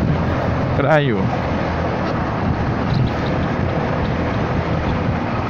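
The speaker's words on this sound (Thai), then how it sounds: "วันนี้ก็ถือว่าลมแรงแล้วตะกี้" Loud, steady wind buffeting the microphone while riding a Honda Forza 300 scooter at speed, a constant roaring rush throughout, with someone briefly talking over it.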